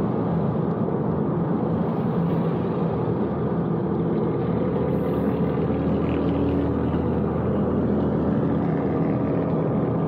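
A tuned car running an APR Stage 1 tune on 91-octane fuel pulls in third gear, heard as a steady, loud engine and road drone from inside the cabin for the whole stretch.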